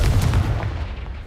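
Confringo, the fire spell in Hogwarts Legacy, lands as a single heavy booming blast up close, its rumbling tail fading over about a second.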